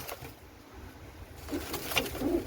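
Soft low cooing of pigeons in a loft, faint and murmuring, with a brief brighter rustle near the end.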